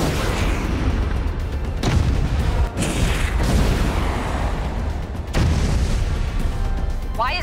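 A missile launcher fires at an airship in Homefront: The Revolution, heavy booming launches and blasts repeating every second or two over a dense, continuous roar of combat, loud and close.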